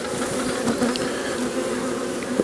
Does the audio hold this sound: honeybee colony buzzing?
yes